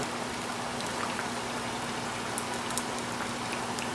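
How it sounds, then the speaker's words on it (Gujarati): Potato slices and onions frying in hot oil for stuffed potatoes: a steady, close sizzle with small crackling pops throughout and no voice. "આ આપણા ઓલમોસ્ટ ફ્રાય થઈ ગયા છે, તરત તળાઈ ગયા છે."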